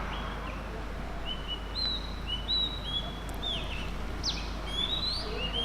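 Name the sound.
birds chirping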